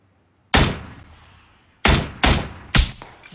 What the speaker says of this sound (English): Someone else is shooting at him, I think.